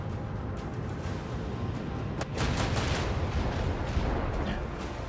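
Gunfire in Rogue Trader sounds as a dense, continuous rumble of shots and blasts, moderately loud, growing heavier partway through with a few sharper cracks, and no talking.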